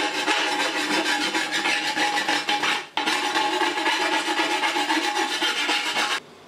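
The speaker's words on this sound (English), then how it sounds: "I'm just going to file it up a little just in case there are any short bits on the edge" A hand file rasping along the freshly cut edge of an aluminium plate, in steady back-and-forth strokes that keep going almost without a break, with one short pause in the middle.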